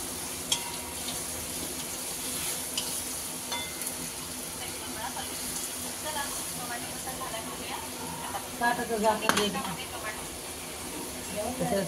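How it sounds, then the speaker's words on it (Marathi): Tomato and vegetables sizzle steadily in hot oil while being sautéed for paneer biryani in a home kitchen, a soft continuous hiss with occasional stirring clatter beneath people talking. "थोडा परतून घेत आहेत. भाजी तयार करत आहे बिर्याणीची. टमाटा टाकला."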